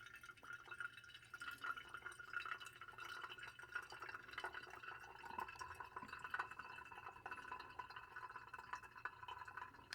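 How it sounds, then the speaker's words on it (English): Pour-over coffee drips steadily as hot water runs through the grounds into the vessel below, a soft, close trickle with faint irregular drips, quiet and without talk. "now more coffee is extracting and ending up down there at the bottom as the water is now running through and slowly extracting from the grounds"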